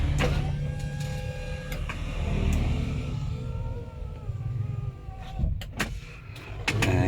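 Power windows on a mini electric car styled like a MINI Cooper whir in several short motor runs with clicks and thumps between them, close and fairly loud, with faint background noise.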